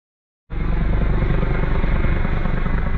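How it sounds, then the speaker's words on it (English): A helicopter flying overhead at night, starting abruptly and then holding a loud, steady rotor thrum with a heavy low-end throb, close and continuous, no talk. "Chopper flying overhead there."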